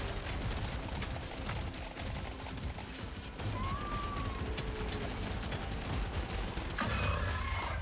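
Rapid gunfire from Deep Rock Survivors, a top-down bullet-heaven game, rattles on continuously for the whole stretch as a dense, steady barrage of shots layered with game effects, with a brief swell of extra impact noise near the end.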